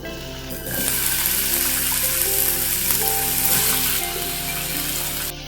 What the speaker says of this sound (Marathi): आपण जे बटाट्याचे असे काप करून ठेवलेले आहेत ते आपण त्याच्यामध्ये घालून वाफवणार आहे थोडेसे